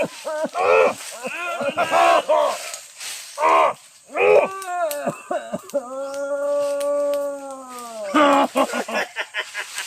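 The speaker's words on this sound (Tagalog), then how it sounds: "Gusulog na ng aso!" A dog lets out a long, steady howl lasting a few seconds, loud and close, set between stretches of excited, shouting voices talking before and after it.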